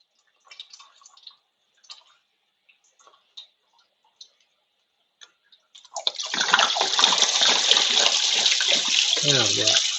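Coolant draining from a TYM T574 tractor engine: after several faint ticks and knocks, a steady loud splashing stream of liquid starts and keeps pouring, close by.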